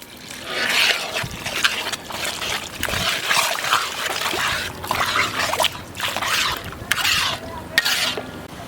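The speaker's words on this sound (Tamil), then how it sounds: "இந்த நேரத்தில் நம்ம வந்து கறி வேக வச்ச தண்ணியை சேர்த்துக்கலாம்" Meat-cooking stock pours into frying chicken gravy masala in a pan, giving a continuous close sizzle and watery splashing with stirring that runs steadily throughout, no voices.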